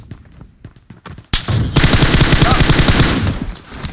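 Gunfire from the mobile shooter PUBG Mobile, with a few scattered single shots at first, then a loud sustained burst of rapid automatic fire close by.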